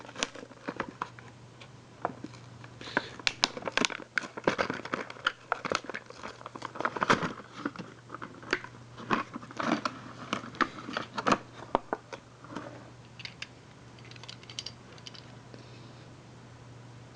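Thomas & Friends toy trains, the diesels Den and Dart, are unwrapped from plastic and cardboard packaging, with close, quiet, irregular crinkling, tearing and tapping bursts, busier in the middle and thinning out later.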